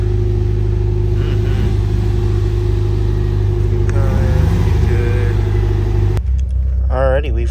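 A tuned Mitsubishi Evo engine rumbles loudly up close with a deep, steady idle and a brief rev as the car rolls into a shop, then a short burst of speech near the end.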